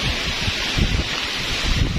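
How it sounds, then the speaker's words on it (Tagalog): Strong typhoon wind roars through a garden in Camarines Sur, Bicol, a steady broadband rush with rustling leaves and gusty buffeting on the microphone, no voices. "Sobra pong mahangin."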